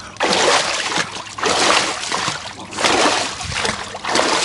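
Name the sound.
water splashing in a cold plunge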